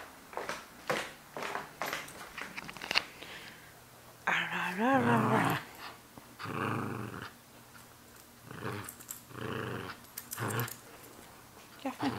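A dog growls and snarls while mauling a SpongeBob toy, giving rough, close growls in bursts with a higher whining rise partway through. A person speaks briefly between the growls.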